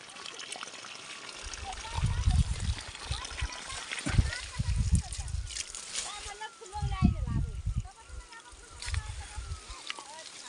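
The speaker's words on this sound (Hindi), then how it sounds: "तो ये पानी जो घर से मैंने खोला था ये पहुंच गया हमारे मटर के खेत में।" Irrigation water flows from a pipe into a pea field on a hillside farm in Uttarakhand, sloshing and trickling in uneven bursts with a low gurgle, near and moderately loud.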